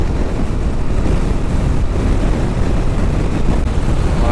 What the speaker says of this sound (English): I don't know if you can hear that wind, man. It is killer today.